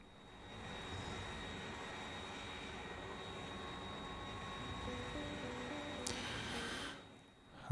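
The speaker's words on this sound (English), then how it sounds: "I think we'll just take the plane." A plane in the video game Factorio gives a steady, moderately loud engine drone that holds evenly for several seconds. A brief bright whine rises near the end, then the sound fades away.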